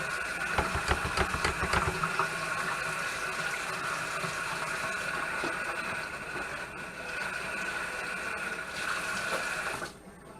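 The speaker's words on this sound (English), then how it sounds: "Wash my hands up a little bit" Tap water runs steadily in a home kitchen while hands are washed beneath it, with splashing and rubbing early on, before the flow stops abruptly near the end.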